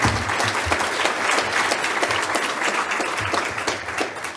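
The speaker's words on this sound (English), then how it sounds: "Let's give that a round of applause." A conference keynote audience claps in sustained applause, a dense wash of many hands close by that stays loud and fades slightly toward the end.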